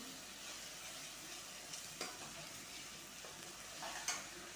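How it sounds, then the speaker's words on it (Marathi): Pav bhaji mixture with red chili powder is sautéed in a pan, giving a faint, quiet sizzle with a handful of light stirring scrapes scattered through it. "आणि हे व्यवस्थित आपल्याला परतून घ्यायचं आहे."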